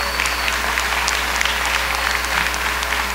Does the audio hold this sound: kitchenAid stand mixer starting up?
no